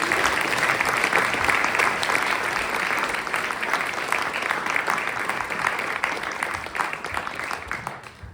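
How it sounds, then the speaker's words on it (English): An audience at a Smith College concert in Northampton gives a steady, full round of applause, many hands clapping continuously and gradually easing off toward the end. "Let's all give a big round of applause."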